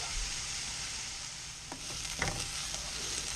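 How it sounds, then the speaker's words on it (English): Onions coated in oil sizzle softly as they caramelize for a marinara sauce, a quiet steady crackle broken by a couple of light utensil scrapes toward the end. "you can see those onions just caramelizing there"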